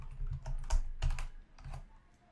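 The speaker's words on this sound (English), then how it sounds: "you guys can't see it, but I'm typing" A password typed on a school computer keyboard: a quick, uneven burst of several close, soft key clicks with short gaps between keystrokes.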